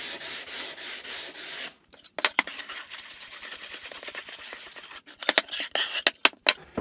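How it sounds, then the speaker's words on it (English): Sandpaper of 100 grit rubs quickly across a melamine surface, a loud, broad scratchy hiss in continuous strokes, then a pause and bursts of short rapid back-and-forth strokes, close and with no talking. "So this is just 100 grit sandpaper. Very quick sand."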